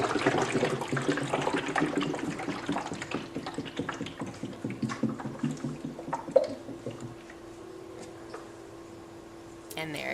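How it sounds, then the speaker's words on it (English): Water sloshes and gurgles as containers used for a Pythagorean theorem demonstration spin, a fast rhythmic churning that slows and fades out, with a brief clunk near the end. "they're going to show you that the water in each of these two containers exactly equals the water in the big container simply by spinning"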